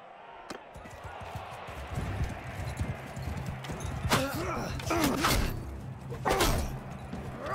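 Horse hooves clip-clop during a Viking-era tournament in the video game Mount & Blade 2: Bannerlord, a rhythmic thudding gallop under heavy clashing impacts, with someone talking over parts of it.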